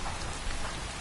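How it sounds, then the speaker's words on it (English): Steady rain pattering down in the Skyrim game world, a dense, even hiss of drops on surfaces with no voices. "oh, it's raining."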